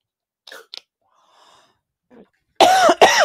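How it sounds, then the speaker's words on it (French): Soft breaths and small throat sounds, then two loud, close coughs in quick succession at the end. "Pardon, je tousse."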